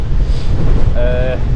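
Extreme wind buffets the microphone on an open fell near Coniston, a loud continuous roar with rumbling gusts and a brief tonal whistle near the end.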